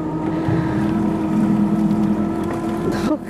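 A motorboat engine pulling a water skier riding an ice chest, a steady, loud droning hum with wind buffeting throughout, close to the microphone.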